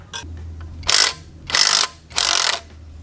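A ratchet wrench tightens the chain adjuster on a Kawasaki ZX-4RR motorcycle. Three loud, close bursts of rapid clicking are separated by short pauses, with a faint low hum underneath.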